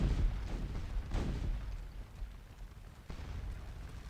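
Napoleonic artillery booms in the Waterloo battle game Scourge of War, several heavy cannon blasts at irregular intervals with rumbling low tails, some close and others farther off, over a constant battlefield din.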